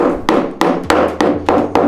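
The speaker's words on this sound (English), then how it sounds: "Now just hammer, hammer, hammer" A hammer drives a wall anchor into a wall with seven sharp, evenly spaced blows in quick succession. Each strike is close and loud with a short ringing tail, and no one speaks.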